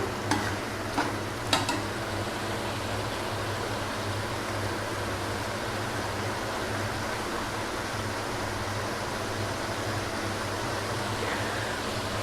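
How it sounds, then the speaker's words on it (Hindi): Mutton (gosht) fries in a pan for chana gosht, giving a steady, even sizzle close by that runs throughout, with a few brief clatters near the start and no talking. "2 से 3 मिनट आप गोश्त को है जो फ्राई हो लेने दें।"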